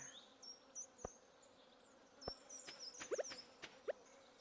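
A faint, continuous insect-like buzz of bees around a bee house in a video game, with scattered soft clicks and taps over the top.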